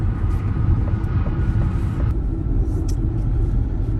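Road rumble and tire noise from a Ford Mustang Mach-E driving along a road, a steady, loud low drone throughout with no talking.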